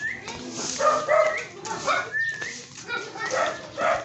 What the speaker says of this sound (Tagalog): Husky.